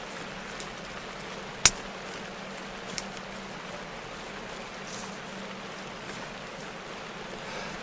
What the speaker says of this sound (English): we're going to take advantage of the rain because, well, rain dampens any noise that we make while running